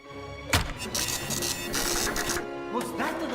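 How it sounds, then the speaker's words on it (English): An HP printer running a print job, heard as a steady mechanical whir with a few sharper clunks and feed pulses, fairly close and continuous. "Was that the sound of my HP printer printing?"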